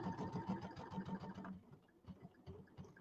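A sewing machine stitches a quarter-inch seam on a quilted table topper, close and steady in a rapid rhythmic whir, then halts briefly and resumes in short bursts.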